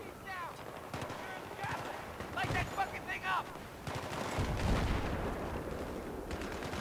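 Gunfire in the Battlefield 3 video game, rapid bursts of automatic fire and scattered shots over a steady battle din, moderately loud, with a person talking through it.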